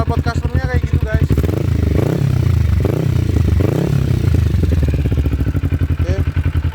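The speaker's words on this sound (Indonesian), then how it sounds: "Suara knalpot customnya kayak gitu guys." A Kawasaki Ninja 250 idling through a custom exhaust, a close, loud, steady engine rumble with a few brief rev swells in the middle and some clattering over it.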